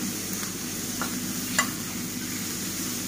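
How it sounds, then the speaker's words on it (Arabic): Chopped tomatoes, onions and boiled meat stirred in a hot pan, a soft steady sizzle with a few faint scraping clicks of the spoon, quiet and close with no talking. "ناخد تقليبه كده مع بعض."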